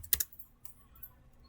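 Two or three quick keystrokes on a computer keyboard while Python code is entered, a brief close clicking burst followed by near silence.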